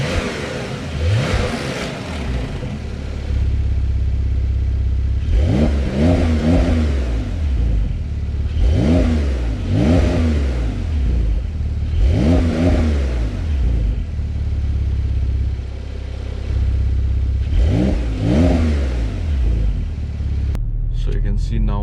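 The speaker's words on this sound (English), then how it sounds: "can open the valve of this exhaust to get more louder" A 2020 Porsche 992 with its exhaust valve open revs hard during a test drive, loud repeated rising and falling engine bursts at close range with a steady rumble between them.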